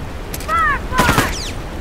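Gunfire in The Last of Us, a couple of loud bursts and booms in a tense firefight, with a voice speaking briefly between the shots.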